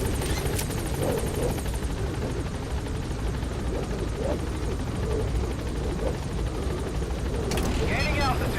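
A helicopter gaining altitude in Metal Gear Solid V, a steady loud rotor and engine drone throughout with a radio voice briefly speaking over it.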